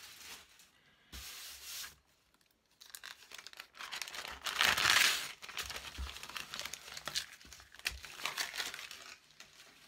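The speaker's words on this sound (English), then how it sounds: "I'm just going to take this wax paper right out of here" Wax paper being pulled out and handled, giving close, dry crinkling and rustling in uneven bursts that swell to a loud, busy crackle midway before settling into softer scraping, with no talking.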